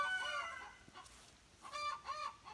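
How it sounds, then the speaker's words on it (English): A homestead rooster clucks and crows in a few short bursts, faint and slightly distant, with quiet gaps between calls and no talking. "But this is what roosters do."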